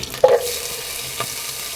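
Curry leaves hit hot oil in a wide pan, a quick sharp hiss that fades into a soft steady sizzle, with one faint later crackle, close and brief.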